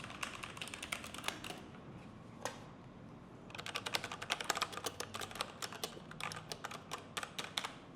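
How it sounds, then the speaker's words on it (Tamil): Gaming keyboard with brown switches being typed on close up, with bursts of quick, fairly soft key clacks, a brief pause with a single stray keystroke, then a longer run of rapid typing. "இது வந்து ஒரு ப்ரௌன் ஸ்விட்சுங்க. இது எப்படி இருக்குன்னு டைப் பண்ணி பார்த்தலாம்."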